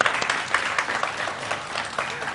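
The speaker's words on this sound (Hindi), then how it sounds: "लेमन मैक्स के लिए तालियां" A studio audience at an iftar television broadcast claps in a short, lively burst of applause, close and fairly loud, with no one speaking during it.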